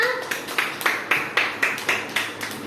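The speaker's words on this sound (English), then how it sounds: "Clap for Arsha." Children in a nursery classroom clap together for a classmate during a shapes and counting lesson, a steady run of about ten sharp, fairly close claps with a voice faintly underneath.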